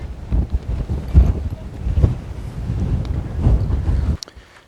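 Gusty coastal wind at Ilfracombe, North Devon, buffeting the microphone in heavy rumbling bursts, loud and continuous before cutting off abruptly near the end.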